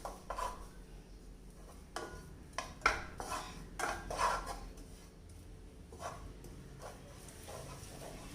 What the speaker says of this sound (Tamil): கை விடாமல் கிளறிக்கிட்டே இருங்க